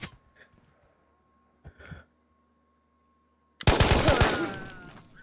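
Ghosts of Tabor video game gunfire: quiet faint shuffles and a couple of soft noises, then a sudden loud burst of rapid automatic fire that fades out over the last second and a half.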